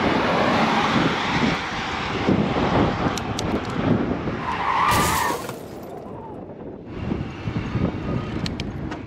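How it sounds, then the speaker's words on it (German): A car passes on a rural road while a cyclist on an e-bike waits nearby, a broad tyre-and-engine whoosh that builds and then drops away, with some rattle and wind noise. "Natürlich kommt jetzt ein Auto."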